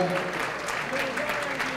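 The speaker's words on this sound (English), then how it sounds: "let's hear one more round of applause for all of these couples" Audience applause for couples at the San Francisco Open 2013 ballroom dance competition, a steady wash of clapping with a voice speaking over it and faint music underneath.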